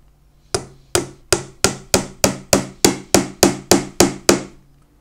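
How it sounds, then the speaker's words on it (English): Nails are hammered into a wooden National beehive DM4 brood frame: twelve sharp, evenly spaced blows, close and loud, with no talking. "and start nailing it away"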